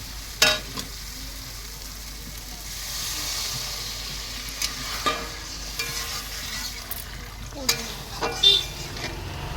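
Water poured into spice paste frying in oil in a pan sets off a loud, steady hissing sizzle, with a few sharp clinks and scrapes of a utensil scattered throughout.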